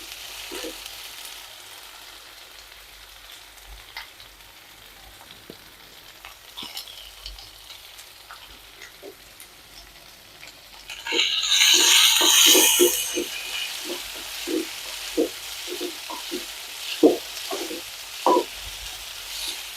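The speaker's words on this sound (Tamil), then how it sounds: "வெங்காயம் தக்காளி எல்லாம் நல்லா வதங்கிருச்சு" Onions and tomatoes with curry leaves and green chilies sauté in a pan. A faint sizzle runs under a burst of loud hissing, followed by repeated scraping stirs and light utensil knocks.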